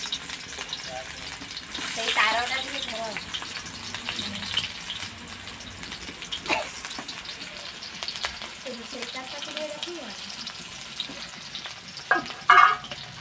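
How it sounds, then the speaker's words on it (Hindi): Onions frying in oil for a cabbage khichdi, a steady sizzle with occasional stirring scrapes and brief watery sounds, a faint voice now and then in the background. "एबे प्याज देलु"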